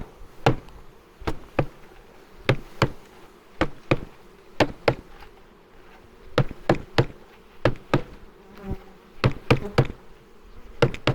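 Bees buzz close by as they are dumped into a hive, while sharp knocks and taps repeat in an uneven rhythm throughout.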